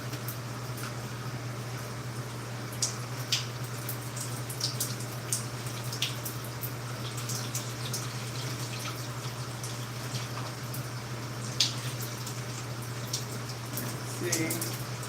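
Water runs steadily while hair is being rinsed, a continuous spattering flow with scattered drips, moderately close over a constant low hum.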